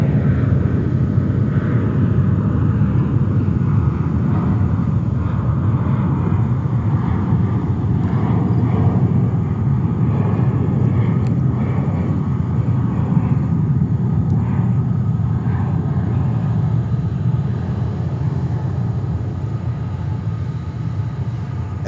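American Airlines Boeing 777 departing JFK for London Heathrow, heard as a sustained low jet rumble and roar at moderate distance that fades slightly toward the end, with no talking.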